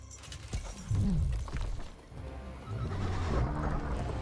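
A horse in the video game Witcher 3 neighs in a loud, wavering whinny, followed by clip-clop hoofbeats and some crashing game effects.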